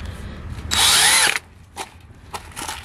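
A power drill drives lath screws into wood in a single rising whir lasting under a second, followed by quieter clicks and handling noises.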